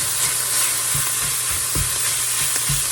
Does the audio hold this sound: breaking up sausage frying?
yes